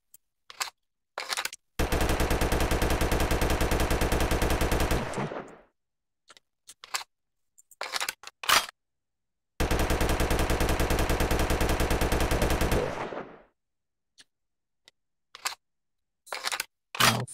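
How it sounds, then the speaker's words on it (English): A Beretta M12 gas blowback airsoft submachine gun fires two long full-auto bursts, each a dense rapid clatter lasting about three seconds, separated by scattered clicks and handling noises, close and loud. "let's do a mag dump"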